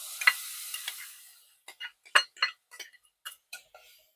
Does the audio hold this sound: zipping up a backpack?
no